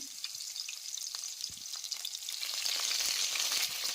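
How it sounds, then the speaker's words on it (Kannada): Crushed garlic and curry leaves, added after spluttering cumin, fry steadily in hot oil for a gravy, a continuous close sizzle with crackling pops that grows slightly louder, with no voices. "ಬೆಳ್ಳುಳ್ಳಿನ ಎಣ್ಣೆಯಲ್ಲಿ ಹುರ್ಕೋಬೇಕು"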